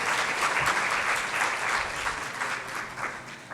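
A church congregation breaks into sustained, even applause, a dense wash of clapping that holds steady for a few seconds.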